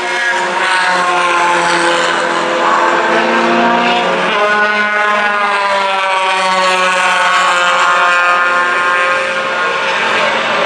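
Heard from outside, a race car accelerates out of Cotton Corners at Buttonwillow Raceway (14CW layout) during a CalClub race, its loud engine note climbing in pitch as it pulls away.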